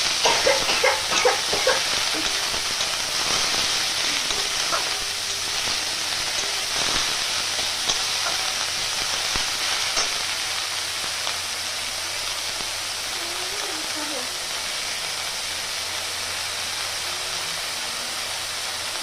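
Shredded cabbage and green chillies fry in a pan, giving a continuous soft sizzle like light rain that holds steady and gradually settles a little quieter, with a few faint clinks early on.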